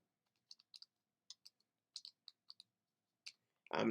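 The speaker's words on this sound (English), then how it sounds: "I'm typing" Keys on a computer keyboard click in short irregular bursts, soft and close in a quiet room, ending with a brief louder noise.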